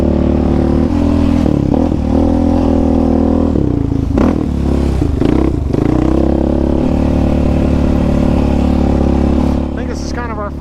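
A Yamaha Raptor 700 ATV engine roars steadily and loud while being ridden, its deep drone briefly dipping and fluttering midway as the throttle eases, then climbing back to a sustained run before fading slightly at the end.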